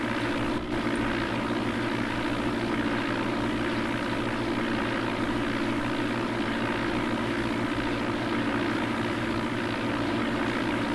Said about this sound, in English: he's flying the Cessna